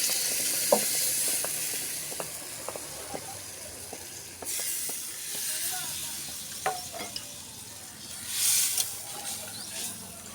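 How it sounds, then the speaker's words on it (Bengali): Spice masala sizzles in a pan with a continuous hiss, punctuated by repeated scraping clicks and taps as a spoon stirs it close by. "একটু নাড়াচাড়া দেওয়ার পরে একটু হলে মশলাটা হয়ে গেছে"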